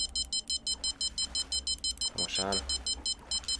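Rapid, evenly pulsed electronic beeping from a fishing rod bite alarm in Fishing Planet, sounding at the Delta San Joaquin in California while fishing for white sturgeon. The beeps repeat steadily throughout, with someone speaking Spanish over them.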